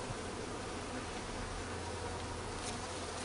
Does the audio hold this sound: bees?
yes